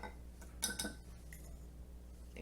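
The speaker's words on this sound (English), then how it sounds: "This is a 1 teaspoon measuring spoon." A one-teaspoon metal measuring spoon scoops milk powder and gives a couple of light, quick clinks against its container, faint and close, with no voices.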